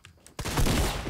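A pump shotgun blast in Fortnite Battle Royale: after a quiet moment, one sudden loud, close shot bursts in and rings out with a heavy, sustained tail.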